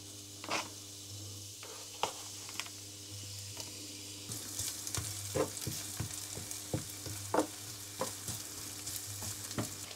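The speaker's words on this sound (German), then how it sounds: "Öl ist heiß genug. Also kommt hier zuerst unsere Zwiebel hinein." Chopped onion sizzles and fries in hot rapeseed oil in a pan while being stirred, a steady close crackle with scattered louder spatters and scraping, no voices.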